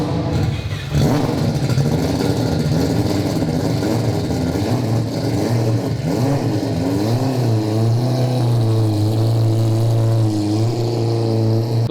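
A four-rotor Mazda RX-7 engine cranks and catches, then settles into a loud, lumpy idle with wavering pitch and small revs, close and continuous throughout.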